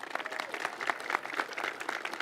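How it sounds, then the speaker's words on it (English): A brief burst of clapping from a crowd at a Purple Line groundbreaking ceremony, steady and moderately loud, with no one speaking over it. "if we can give them a round of applause"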